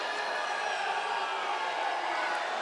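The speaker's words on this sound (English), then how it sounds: "The crowd doesn't like it." Basketball crowd at a University of Portland vs Hawaii game reacting with disapproval to a foul call, a steady, dense roar of many voices with no clear peaks.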